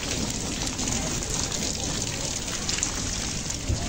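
Steady rain falls on the village lanes, a continuous dense patter and hiss on wet ground, close and even throughout with occasional louder drops.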